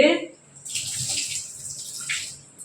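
Water poured off soaked rice in a kitchen bowl for white paniyaram, a steady high pouring and splashing that runs through most of the clip after a brief opening noise, close and moderately loud.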